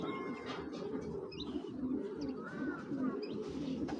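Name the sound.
pigeons cooing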